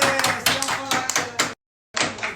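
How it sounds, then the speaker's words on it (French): A few people clapping indoors, irregular sharp hand claps at close range, cut by a brief silent gap before clapping resumes. "Félicitations, on peut tous applaudir."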